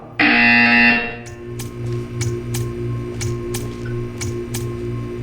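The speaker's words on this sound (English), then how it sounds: "You will hear a buzzer." A loud harsh buzzer in the video game Portal 2 sounds for about a second, followed by a quiet hum with sparse, evenly spaced ticking clicks.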